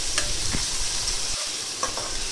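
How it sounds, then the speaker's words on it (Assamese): Spices sizzle and fry in a pan for prawn curry, a steady close hiss with occasional stirring scrapes and no talking. "এয়া কেঁচা কেঁচা গোন্ধটো যোৱালৈকে ফ্ৰাই কৰি লৈছোঁ"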